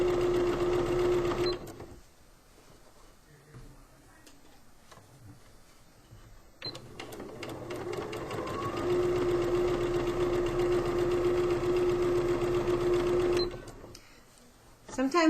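A sewing machine stitches a pillowcase in two runs, a fast mechanical whir with a high steady hum, first briefly, then after a pause a longer stretch of stitching. Quiet handling noises fill the gap, and a voice talks nearby.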